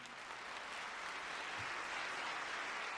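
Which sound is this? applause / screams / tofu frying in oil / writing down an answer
applause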